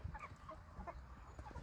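Pastured meat chickens and egg layers on a rotational grazing field clucking softly in scattered short calls over a low rumble of background noise, faint and somewhat distant.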